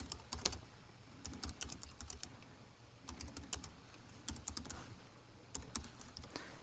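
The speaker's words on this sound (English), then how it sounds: "just while I'm typing this" Someone types on a computer keyboard during a Visual Basic .NET demonstration: quiet, irregular bursts of clicking keystrokes with short pauses between runs, and no talking.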